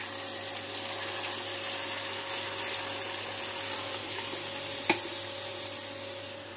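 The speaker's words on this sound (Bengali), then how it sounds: "কড়াইতে আবার আমি তেল দিয়ে দিয়েছি। তেল দিয়ে কিন্তু এবার মশলাটা যে দেবো মশলাটা দিয়ে দেবো।" Spices frying in oil in a kadai give a steady, close hiss of sizzling that runs throughout, with one sharp clink near the end.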